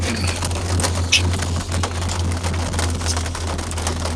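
Steady rain pattering on a surface with a constant low hum underneath, and occasional pigeon-like coos and bird calls faintly mixed in.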